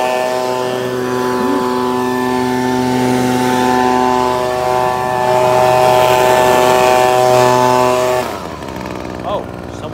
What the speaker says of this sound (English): this is the Echo PB2520 handheld leaf blower.